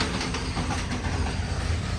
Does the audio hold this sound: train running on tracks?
yes